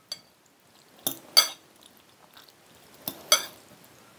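A spoon stirs macaroni fruit salad with a few spoonfuls of packaged cream in a bowl, giving two pairs of short clinks and scrapes against the dish, fairly close and otherwise quiet.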